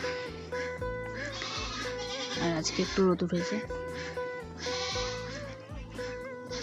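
A goat bleats in a wavering cry partway through, while a person talks over background music.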